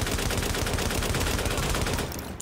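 Rapid, sustained automatic gunfire in The Division, loud and dense with no break for about two seconds before it cuts off abruptly.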